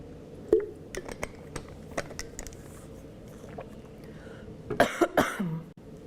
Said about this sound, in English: I'm sorry, I'm going to cough again.